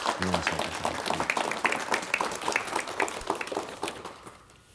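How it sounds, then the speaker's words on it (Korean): A studio audience applauds to welcome a veteran novelist onto a 1986 Korean television talk show, with dense clapping that fades out toward the end while a voice speaks over it. "여러분 박수로 환영해 주시면 대단히 고맙겠습니다"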